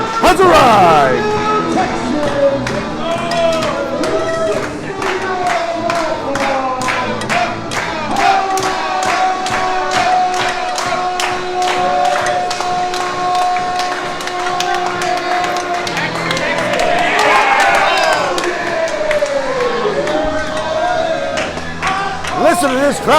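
Loud crowd at a live LWA wrestling event, a Texas Bullrope Match, yelling and cheering throughout, with rhythmic clapping or stomping and a surge of louder cheering near the end.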